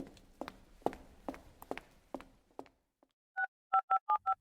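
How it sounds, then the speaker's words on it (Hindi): Footsteps tap across a floor, then a telephone keypad is dialed, five or six short, crisp DTMF beeps in quick succession, used as a sound effect in a Hindi audio story. "शाम को काम खत्म करने के बाद जानवी ने ऋषभ को फोन मिलाया"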